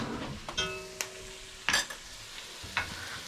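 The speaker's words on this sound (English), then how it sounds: "Now you want to get this sauteing also." Tomato paste and garlic sauté in a pan, with a low, quiet sizzle broken by several sharp scrapes and clinks of a utensil stirring against the metal, up close and without speech.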